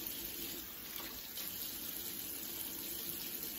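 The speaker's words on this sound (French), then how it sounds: "Une fois qu'il est frotté, je le rince dessus." Tap water runs steadily into a sink while makeup brushes are rinsed under it, a close, continuous splashing stream with no one talking.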